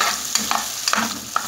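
Calabresa sausage sizzles and gets stirred in a pan, with steady frying hiss and a few scraping stir strokes close up, no voices.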